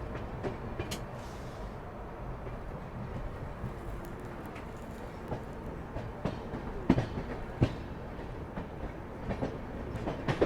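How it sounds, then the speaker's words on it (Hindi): A passenger coach rake is shunted through the Ambala station yard, giving a low rolling rumble broken by sharp wheel clicks and metallic clanks that grow louder and more frequent toward the end. "यहाँ पे शंटिंग भी हो रही है किसी रेक की।"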